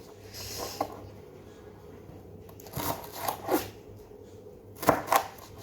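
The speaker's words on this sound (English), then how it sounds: "Okay, so then I'm going to just cut them into little slices." A knife cuts vegetables into thin slices on a board for paella: a few scattered, soft chopping taps in a quiet kitchen, with short pauses between cuts and a pair of sharper strokes near the end.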